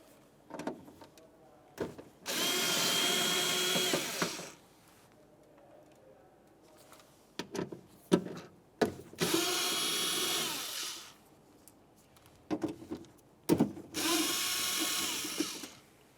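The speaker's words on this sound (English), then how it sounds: "let's start dismounting the window regulator, starting with the three lower 10mm headed mounting bolts" A power drill removes the 10mm window regulator mounting bolts on a 2006-2011 Honda Civic in three separate whirring bursts of about two seconds each, with clicks and handling noises between them.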